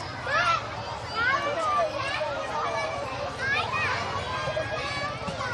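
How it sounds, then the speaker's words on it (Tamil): Children play in a park in Kovai, their high, lively voices shouting and chattering over one another in a steady, overlapping stream nearby. "இந்த குழந்தைங்க விளையாடுற சத்தம்"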